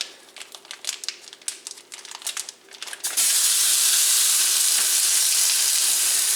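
Beyond Beef dropped into hot olive oil in a pan bursts into a loud, steady sizzle after some crinkly handling noises, the frying hiss holding strong and close to the end.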